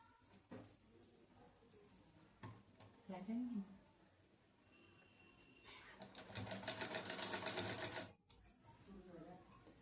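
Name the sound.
sewing machine stitching fabric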